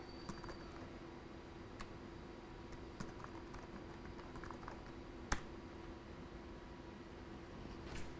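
Keys clack on a computer keyboard as an email and password are typed, with soft, irregular taps, one sharper keystroke, and a faint hum of a quiet room underneath.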